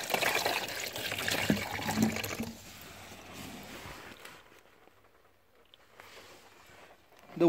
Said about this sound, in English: The water completely drained out to outside of the door.